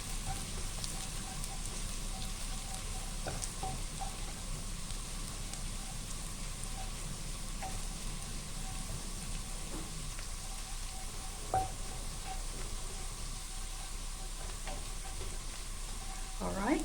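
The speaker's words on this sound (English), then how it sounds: "the ginger has gone in." Sliced ginger frying in oil in a pan gives a steady, dense sizzle like light rain, close and even throughout, with a few faint clinks from the cookware.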